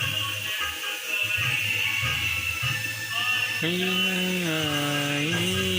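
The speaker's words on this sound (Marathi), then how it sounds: "तिकडे सापाला कलरिंग चालू झालेलं आहे मशीननं" A continuous hissing, whining machine drone runs throughout, close and loud, shifting pitch partway through as a spray painting machine colours a Ganpati idol.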